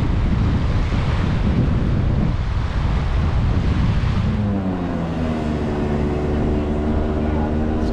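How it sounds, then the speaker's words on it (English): Strong wind buffets the microphone on a beach in Mykonos, Greece, a loud constant rumble with surf behind it and no break. "so it's a bit windy"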